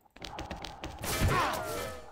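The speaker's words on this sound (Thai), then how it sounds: "โอ้ยระเบิดตกวะเนี่ย" A grenade going off in the XSHOT shooter game, a sudden loud blast with a crashing burst and a ringing tail, following a short spell of muffled game noise.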